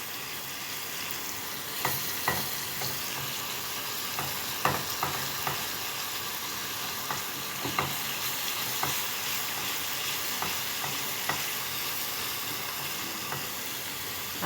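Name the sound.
garlic frying in ghee for molokhia tasha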